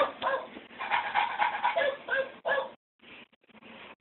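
A dog whimpers and yips in drawn-out, nasal whines, close and fairly loud, with a brief pause before softer whimpers resume.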